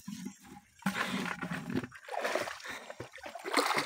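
Coastal high-tide water splashes and sloshes up close in irregular bursts, with choppy surges over a low background rumble.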